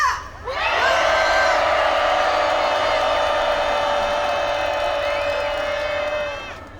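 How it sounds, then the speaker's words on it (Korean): Large crowd at an anti-government rally in Ulsan roars and cheers together in one sustained, loud shout lasting about six seconds, rising sharply, holding steady with whoops and cries, then fading out. "우리의 분노를 함성으로 표출해 보겠습니다. 다 함께 5초간 함성 시작!"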